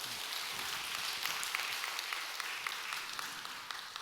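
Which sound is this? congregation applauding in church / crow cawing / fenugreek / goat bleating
congregation applauding in church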